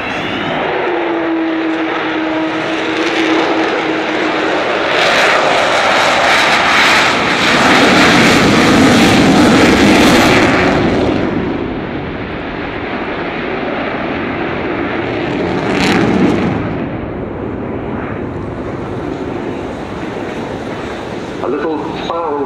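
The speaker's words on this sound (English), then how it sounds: "he's flying the Vulcan today as we watch" An Avro Vulcan jet bomber flies at the Bournemouth Air Show, a loud sustained jet roar that swells and fades as it passes, with someone commentating over it.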